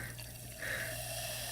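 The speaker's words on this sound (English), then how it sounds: "Listen to that bubbling." A bubbling drink being poured into a glass, a steady liquid fizz that rises and becomes fuller partway through, heard close up with no talking.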